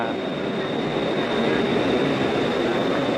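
A train rumbles steadily at Sala Daeng station in Bangkok, a loud, continuous broadband roar with a faint high whine that holds level throughout and has no voices over it.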